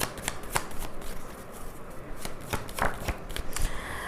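Tarot cards shuffled by hand at close range, a quick run of crisp riffling snaps and soft slides with a few sharper flicks as cards are drawn, no talking.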